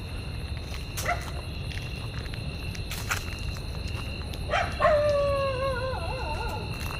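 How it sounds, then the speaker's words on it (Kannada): Dogs in a residential colony let out a few sharp distant barks, then one dog breaks into a long wavering howl that rises and falls for about two seconds over a steady background hum. "ಇಲ್ಲಿ ಬಂದರೆ ನಾಯಿಗಳು ಜಾಸ್ತಿ ಆಳೋದು ಸ್ಟಾರ್ಟ್ ಆಗುತ್ತೆ."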